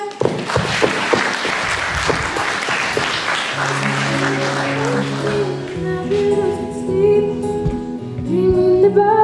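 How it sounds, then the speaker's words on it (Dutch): An audience at a kids' TV show applauds a live performance, a dense burst of clapping over the first half that fades as music begins to play. "Applaus, mensen!"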